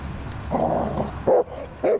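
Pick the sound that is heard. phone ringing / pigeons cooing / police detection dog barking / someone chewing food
police detection dog barking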